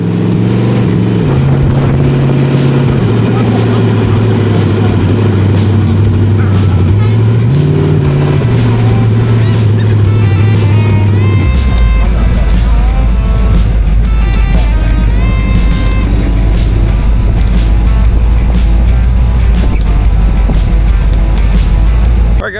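A Speedway Motors T Bucket hot rod drives along the road, its engine loud and close throughout, climbing and shifting in pitch as it accelerates and then settling into a steady cruising drone.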